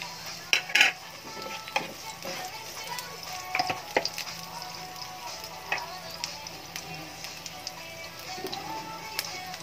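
Onion being added to garlic in a pan and stirred while it sautés, with scattered clinks and scrapes of a utensil against the pan over a faint sizzle; the sounds come in irregular clusters.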